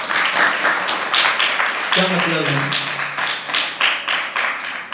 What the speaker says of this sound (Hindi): आप लोगों ने तालियां तो बजाई